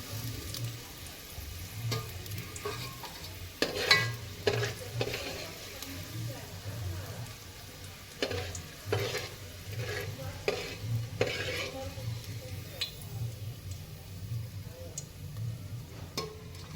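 Browned onions for chicken biryani are stirred and scooped from a sizzling pan, a faint frying hiss broken by scattered clicks and scrapes of a utensil against metal, with a quiet voice at times.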